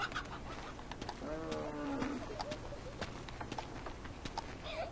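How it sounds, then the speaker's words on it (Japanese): Chicken clucking in Uncharted 2, a few short harmonic clucks near the middle over steady game ambience and scattered clicks, no talk. "お、鶏が近寄ってきた。"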